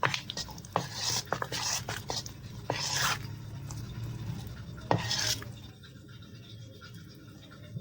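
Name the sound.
stirring batter mixture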